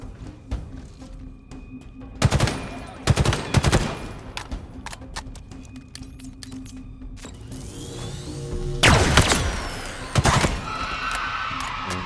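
Gunfire in Halo Infinite: scattered sharp shots and a couple of loud, longer bursts stand out over a busy background of mechanical game sounds, with a heavier burst near the end.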